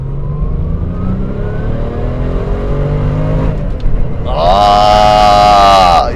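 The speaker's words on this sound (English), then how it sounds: "Let's see what the twin turbo can do." A Porsche twin-turbo with a manual shifter accelerates hard, its engine note rising steadily in pitch, then jumping to a loud, high revving wail after a shift, heard from inside the car.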